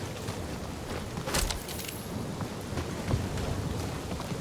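Rain pours steadily in Guardians of the Galaxy, with a low thunder rumble and a sharp crackle partway through, a dense hiss filling the scene with no one speaking.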